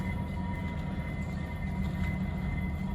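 A Texas State Railroad locomotive runs nearby as it comes back around to couple onto the other end of the train, a steady, loud low rumble with constant tonal hums, heard alone without voices.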